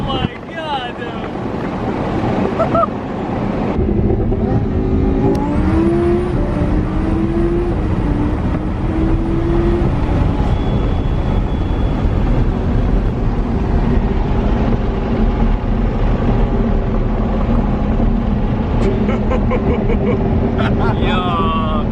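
A 1,000-horsepower twin-turbo Lamborghini Huracan accelerating hard, its engine roar rising in pitch through gear changes, loud and continuous under heavy wind rush from inside the car.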